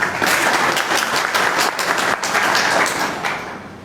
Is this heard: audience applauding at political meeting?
yes